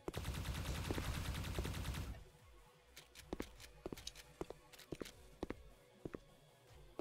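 A sustained, loud stream of rapid automatic gunfire shooting zombies in a first-person video game gives way to a quieter stretch of separate, evenly spaced single shots.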